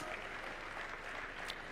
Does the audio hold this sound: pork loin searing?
no